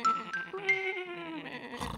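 Sheep bleat in a cartoon children's programme, a near, wavering voiced call with clear harmonics lasting most of two seconds before a brief noisy burst at the end.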